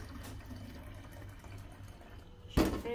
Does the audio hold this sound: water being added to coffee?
yes